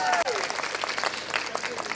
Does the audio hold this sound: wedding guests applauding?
yes